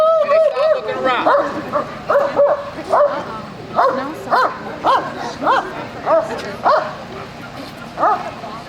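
A dog at a community scent-training demonstration gives a rhythmic series of close, loud yips and barks, repeating roughly every half second with whimpering in between.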